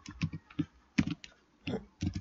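Quick irregular bursts of keystrokes as C++ code is typed on a computer keyboard, close and moderately loud, with no talking.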